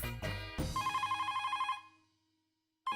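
Telephone ringing with a rapid electronic trill, one burst of rings fading out into silence before the next ring starts, heard close with no talking over it.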